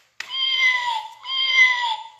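Two drawn-out electronic kitten meows from a toy piano play mat, clear and close, each lasting close to a second with a short gap between them and no other sound.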